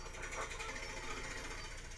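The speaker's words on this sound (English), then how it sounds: "Oh, not a jackhammer. Oh, those things are so hard to operate." A cartoon jackhammer rattles in a rapid, continuous pounding stream, faint and distant, unbroken for two seconds.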